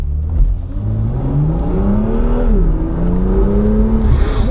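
A warmed-up BMW M2 engine revs up and down close by, its rising and falling tone steady and loud throughout without any talk.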